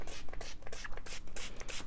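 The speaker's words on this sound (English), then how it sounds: "and I am just gonna spray all over" Alcohol ink sprayed over coffee- or tea-dyed paper, a rapid series of short hissing bursts with scratchy, rustling handling in between, close and fairly loud.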